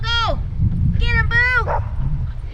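A dog barking at a distant osprey in a tree on rural wildfire-recovery land, a few sharp, high-pitched yipping barks in quick bursts, close and loud, with wind or background noise beneath.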